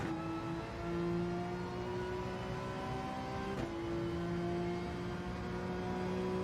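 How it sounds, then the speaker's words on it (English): A Porsche 911 GT3 engine revs flat out at Watkins Glen in Gran Turismo 7, a steady high-pitched engine whine climbing in pitch through a gear change, with no talk. "I like to go back on throttle as soon as I clear that mark in the barrier and go as fast as you can flat out."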